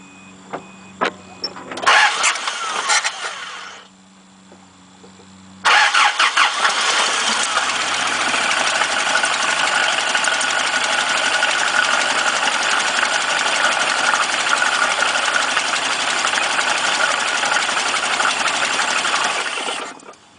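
A Toyota 22R engine cranks in short bursts, goes quiet briefly, then catches and runs with a loud, steady roar that holds for about fifteen seconds before cutting off.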